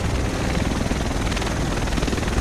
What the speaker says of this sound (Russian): Вот и вертолет.